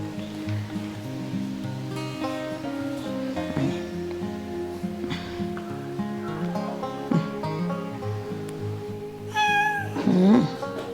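Background tones and rustling fill most of the clip, then a cat gives a couple of clear meows near the end.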